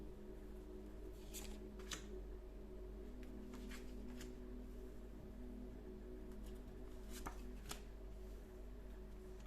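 Cards being shuffled for a card reading produce faint, scattered riffles and slaps, a few brief bursts spread across the stretch, over a steady low hum.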